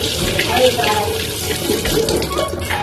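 Tap water runs steadily into a sink after hand washing, a continuous splashing hiss that stays close and fairly loud throughout, with faint household sounds in the background.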